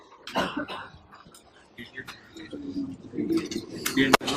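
A few rough coughs and throat-clearing sounds near the mic during a lecture, mixed with someone talking and some background chatter.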